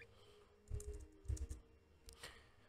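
Computer keyboard keys being typed while entering text in a document, with a few short bursts of quick taps separated by pauses, close and fairly soft.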